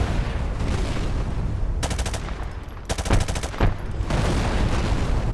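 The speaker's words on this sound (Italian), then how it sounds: "Arrivano gli spari della C-130" Rapid bursts of heavy automatic gunfire from a C-130 gunship in Call of Duty 4 Remastered, loud rattling volleys over a constant rumbling din.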